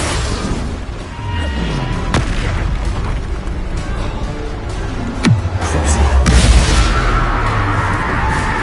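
A Confringo explosion spell in Hogwarts Legacy lands as deep booming blasts, a couple of sharp impacts followed by a swelling rumble, set against a steady background of game ambience.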